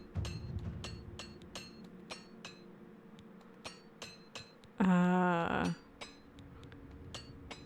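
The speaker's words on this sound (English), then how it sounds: "I have a repair hammer because I found one" Repair hammer working on leather boots in the video game Oblivion Remastered: a run of sharp metallic taps and clinks in steady rhythm, with a brief louder chime partway through, over quiet game ambience.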